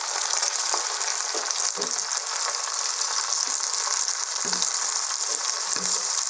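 Cut okra and onions sizzling in hot oil for besan bhindi masala, a steady bright frying hiss throughout with occasional soft stirring knocks.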